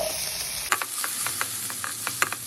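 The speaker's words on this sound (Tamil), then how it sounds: "நல்லா வதக்கின பின்னர் தேங்காய் போட்டு 2 நிமிஷம் வதக்கிங்கோ." Tomatoes and coconut sauté in oil in a kadai, giving a continuous sizzle broken by intermittent scraping stirs, heard close up with no talking.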